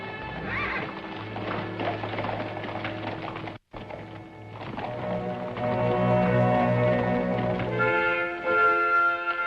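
Horses ridden at a steady pace, hooves clip-clopping with a whinny, mixed with a music score that swells partway through.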